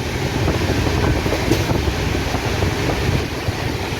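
Strong wind roars at the open door of the Garib Rath Express near Kolaghat bridge, a loud steady buffeting rush over the low rumble of the moving train.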